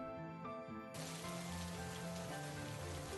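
A rain sound effect in a spoken story, heavy rain falling outside as a constant dense hiss that swells in sharply after a quiet, tonal opening and then holds steady.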